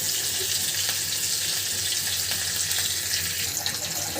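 Pieces of catla fish frying in hot oil, a steady, loud, close hiss and crackle that holds evenly throughout with faint bubbling, no speech.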